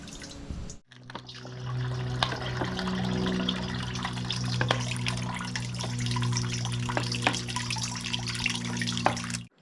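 Seawater is poured through a filter, giving a steady trickling flow with scattered drips and a constant low hum, no talking.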